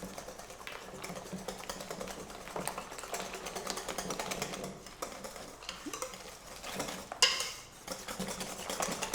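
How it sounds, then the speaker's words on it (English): Eggs, milk and flour batter for toad in the hole being whisked by hand in a bowl, a steady scraping patter that runs unbroken, with a sharper clink near the end. "we're going to whisk it until there's no lumps"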